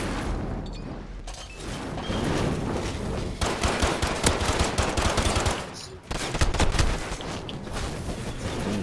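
Sustained automatic gunfire and heavy shooting in the Call of Duty: Modern Warfare video game, loud and dense with rapid bursts and booming impacts across the whole stretch, with a brief lull near the middle.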